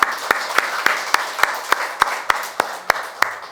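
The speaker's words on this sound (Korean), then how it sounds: "하나님께 영광의 박수 올려드립니다" A congregation at a Sunday worship service at Yangmuri Church in Incheon claps in unison, about a dozen sharp, evenly spaced claps in a brisk steady rhythm, fairly close and loud, with no talking over them.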